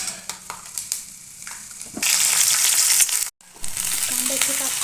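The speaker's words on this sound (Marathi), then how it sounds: "शेंगदाणे भाजून घे।" Peanuts crackle and sizzle as they roast in hot oil in a pan, a light stirring at first swelling into a loud, steady frying hiss with brief scraping.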